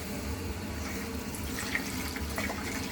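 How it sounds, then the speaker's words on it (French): Running tap water pours steadily into a sink while couscous grains are rinsed, a continuous splashing wash with small trickles and drips, close and fairly soft, no talking. "Je vais, pour commencer, rincer d'abord le couscous."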